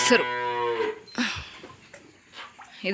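A cow moos loudly and close by at the start, one long drawn-out call, followed by quieter rustles and shuffling sounds in a farm shed.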